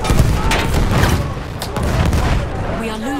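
Bomb blast in the World War I shooter Battlefield 1 amid continuous battlefield gunfire and booms, a loud dense rumble throughout with a voice talking briefly.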